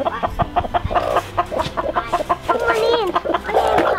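Broody hen clucking and grumbling in a backyard coop, a string of close, loud clucks and throaty protest calls, with a person talking softly in between.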